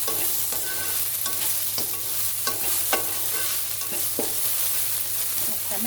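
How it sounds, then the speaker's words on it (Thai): Garlic stir-frying in a pan: a constant oily sizzle with repeated scrapes and clacks of the spatula at an irregular rhythm, close up and without talk. "ผัดให้หอมนะคะ ให้กระเทียมมันติดก่อนนะคะ"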